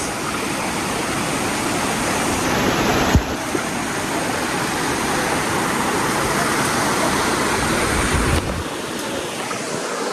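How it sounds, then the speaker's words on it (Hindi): A rushing river in the hills of Karbi Anglong, Assam, fills the scene with a loud, steady, close roar of flowing water. It holds unbroken for about ten seconds, with a brief knock partway through. "और आवाज़ सुन सकता है दोस्तों, पानी की आवाज़"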